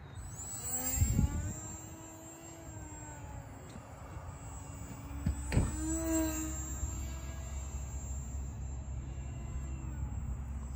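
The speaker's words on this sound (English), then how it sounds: "Tonight I'm out flying Haley's Papillon, which is a little 2S power glider, elevator and rudder only." A small 2S electric power glider with only elevator and rudder flies overhead, giving a steady whining motor drone that rises and falls in pitch as it passes, moderately distant against faint outdoor background.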